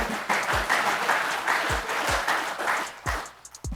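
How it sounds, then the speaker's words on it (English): A small audience at a construction safety day game show gives a round of applause, moderate and somewhat uneven, with occasional low thumps and the clapping thinning toward the end. "So round of applause for Raul"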